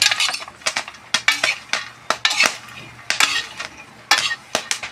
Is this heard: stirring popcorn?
yes